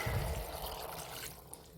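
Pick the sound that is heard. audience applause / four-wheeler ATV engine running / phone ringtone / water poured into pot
water poured into pot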